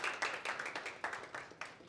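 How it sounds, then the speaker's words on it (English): Faint, distant applause comes from a media workshop audience on Zambian mining exploration, made of sparse, separate hand claps in a loose, uneven rhythm from a few people. "Round of applause"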